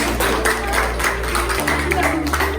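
A class group applauds, a short burst of quick, overlapping claps that runs steadily for a couple of seconds over a low background hum.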